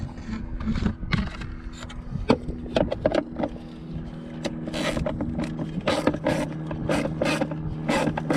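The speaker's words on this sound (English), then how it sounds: "right here you're going to have a 7mm bolt, and you're going to need to take out" A 7mm bolt is removed above a car radio with a ratchet, giving a close run of irregular metallic clicks and scrapes that become quicker, sharper ratcheting toward the end, with no talking.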